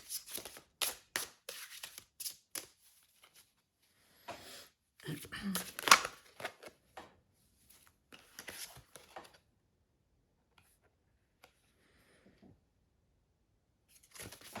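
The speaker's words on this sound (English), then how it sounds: "Oh, I had to keep shuffling. That was way too many cards." Cards are riffled and shuffled in short bursts with pauses between, close and crisp, alongside quiet speech.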